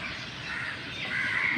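A crow caws in the distance over faint morning outdoor background noise in Kakinada, India, a short harsh call.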